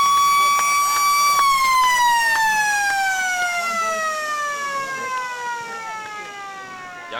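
A loud siren at an AFL football match sounds alone as one long falling wail, holding steady for a moment before its pitch slides lower as it fades.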